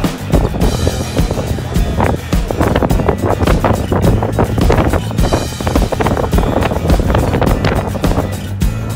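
Blustery wind at Southend's football ground, strong gusts battering the microphone in a loud, constant roar with uneven buffeting throughout.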